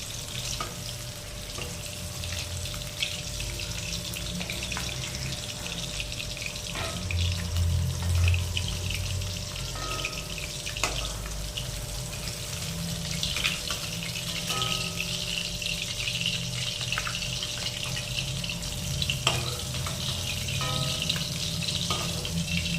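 Hilsa fish frying in mustard oil, a steady close sizzle with occasional clinks and stirring noises throughout, no talking.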